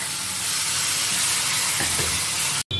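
Bottle gourd chutney sizzling as it meets a hot tempering in a pan, a steady close frying hiss with a couple of soft stirring scrapes, then a brief cut-out at the end.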